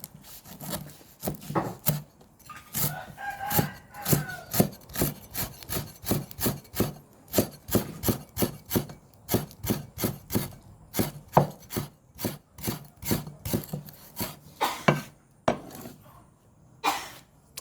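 A knife chops frog meat on a wooden board in quick, steady strokes, close and crisp, with a brief pause between bursts.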